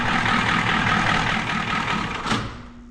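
Diesel engine in a Ford bumpside truck, not run in over ten years and fitted with a freshly rebuilt injection pump, idling with a steady loud knocking rumble that swells briefly and then drops away as it shuts off.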